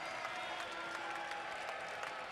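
Crowd at a basketball game cheering and clapping, a continuous dense wash of applause with steady roar and no clear voices rising above it.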